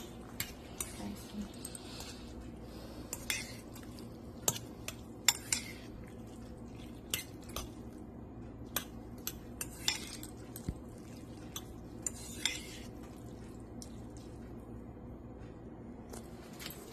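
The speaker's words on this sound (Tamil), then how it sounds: "இப்போ எல்லாம் ஆட் பண்ணிட்டோம்னால இது மிக்ஸ் பண்ணிடலாம் நூடுல்ஸும்" Utensils mixing noodles in a pot, with faint, scattered metallic clinks and soft scraping repeating irregularly throughout against a quiet background.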